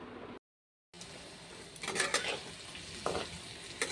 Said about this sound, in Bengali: তো দেখো পটলটা ভাজছি